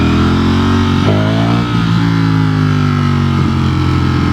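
A Ducati Streetfighter V4S motorcycle engine in sport mode, revving loudly and close with steady harmonic drone and pitch shifts as the throttle rises and falls, alone without talk.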